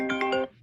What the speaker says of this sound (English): And that is my phone ringing.